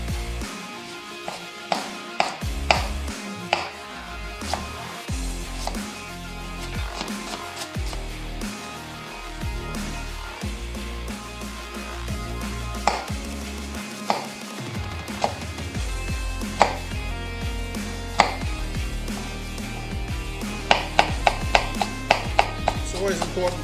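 A sharp knife chops ingredients on a board for Chinese takeaway-style chicken, steady rapid taps in runs with occasional louder strikes, close, over a low background hum.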